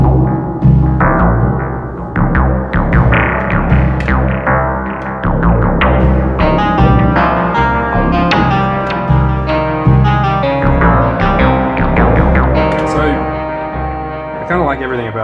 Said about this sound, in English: I've decided that I want this FM track to also go through the reverb